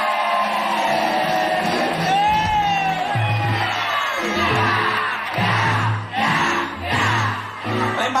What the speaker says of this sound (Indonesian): Beri tepuk tangan yang meriah untuk Tukul Arwana.